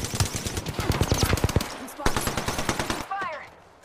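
Rapid automatic gunfire from Apex Legends, dense bursts of loud repeated shots filling the first three seconds, then a brief pause and a last short burst with a faint electronic tone as it fades.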